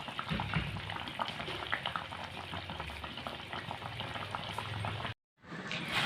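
Fish curry with ridge gourd and potato simmers in a pot, giving a steady, close bubbling and hissing that cuts out for a moment near the end, then resumes.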